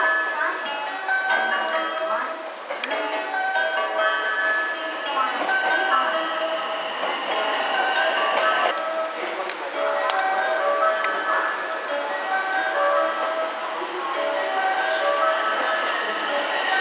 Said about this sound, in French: Voilà la gare de Hyogo sur la ligne Sanyo et c'est ici qu'il y a l'embranchement pour Wada-Misaki.